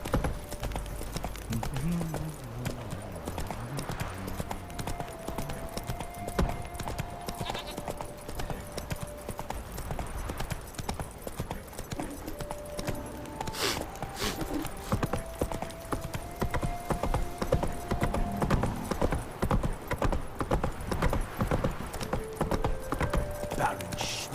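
Hooves of the horse Roach clip-clopping in The Witcher 3, a steady walking rhythm running throughout, mixed with game ambience, occasional musical tones and a brief whinny.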